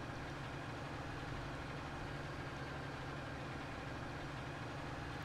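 Farming tractor engine idling steadily in Farming Simulator 19, a constant low rumbling drone with an even hum that holds throughout without revving.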